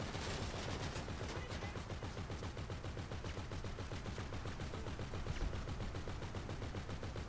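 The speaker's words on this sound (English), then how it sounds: "they might be shooting at us" Rapid enemy gunfire in the GTA Online Import/Export DLC: dense automatic bursts rattle without a break through the whole stretch, loud and close with no talking over them.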